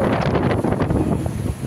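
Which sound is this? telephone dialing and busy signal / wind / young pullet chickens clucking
wind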